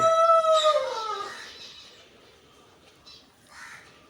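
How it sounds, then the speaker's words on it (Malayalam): A large Brahma rooster crows once, a loud, drawn-out call that tails off, heard close in a home vegetable garden, followed by faint distant bird chirps. "അതിൻ്റെ ഇപ്പോൾ വലുതായിട്ട് കരഞ്ഞില്ലേ ആ ബ്രഹ്മ എന്ന് പറയുന്ന ഇനത്തിൽപ്പെട്ട"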